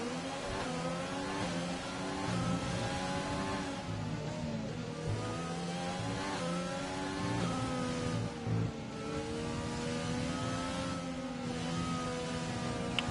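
Onboard McLaren race car engine in a racing video game, a sustained high engine whine with rising and falling pitch as it shifts through gears, steady and close with no talk.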